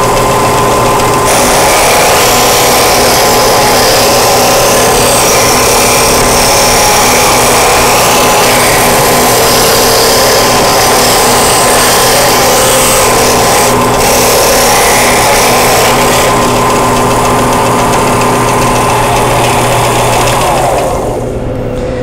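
An electric sander grinds steadily against wood being shaped for a Shaker box, a loud continuous whirring drone that runs nearly unbroken for about twenty seconds and then tapers off as the machine winds down.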